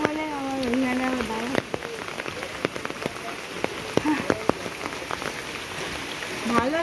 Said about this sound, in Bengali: বৃষ্টি হচ্ছে তো এখন